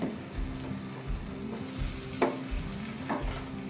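Crushed tomatoes go into sizzling roasted spices in a pan for a raw banana gravy curry, with a steady frying crackle and periodic scraping stirs, close and moderately loud with no talk.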